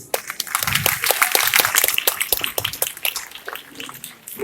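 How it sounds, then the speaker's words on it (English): An audience gives a round of applause for a motivational speaker, a steady patter of many hands clapping at close to moderate distance for several seconds. "I think you deserve a round of applause."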